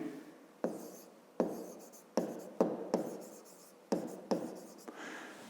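Pen writing on paper during a fifth-grade math lesson, a series of distinct scratchy strokes arriving in short repeated bursts, close and fairly clear, with no one speaking.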